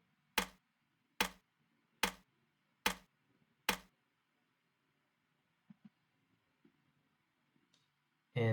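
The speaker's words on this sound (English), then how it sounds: "I ended up getting a rim shot." A crisp rim shot drum sample in a beat strikes five times at an even pace, sharp and dry, followed by faint soft ticks and a louder hit at the very end.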